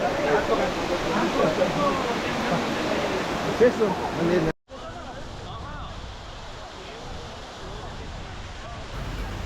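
Continuous roar of a waterfall in Karnataka's Western Ghats, loud and broadband, briefly cutting out midway before resuming slightly quieter.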